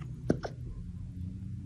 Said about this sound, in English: This tiny cutie, plagued by a bout of relentless hiccups